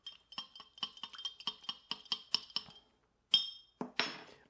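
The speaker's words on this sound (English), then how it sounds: "I'm going to just give it a quick stir." Bar spoon stirring a banana bread old fashioned cocktail in a glass, a quick rhythmic series of bright clinks close up, followed after a pause by a couple of sharper glass knocks.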